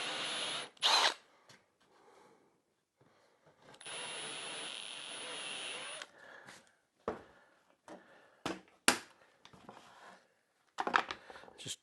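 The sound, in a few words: drilling down into a workbench top for a T-nut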